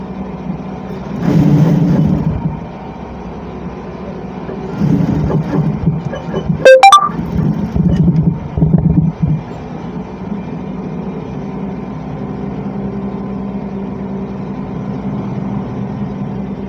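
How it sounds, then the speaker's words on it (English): An electric sewing machine stitches along the curve of a kaftan side pocket, its motor whirring in short, uneven bursts over a steady low hum, with one sharp click partway through. "And now start to run your stitch following the curve, the curve of the pocketing."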